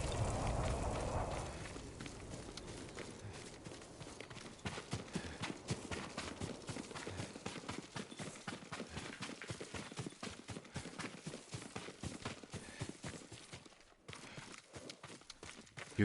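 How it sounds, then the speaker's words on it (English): Horse hooves clip-clop in a steady walking rhythm on the ground in the game Ghost of Tsushima, close and continuous, with a brief low rumble at the start and no speech over them. "Yuriko's horse."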